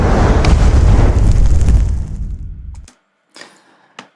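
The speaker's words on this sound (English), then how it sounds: "It starts with a fireball that is closing into the center, and then the real explosion happens." A magic explosion sound effect opens with a roaring fireball that rushes and closes into the center, holding loud and dense before it cuts off abruptly. After a brief silence come two faint, sparkling bursts.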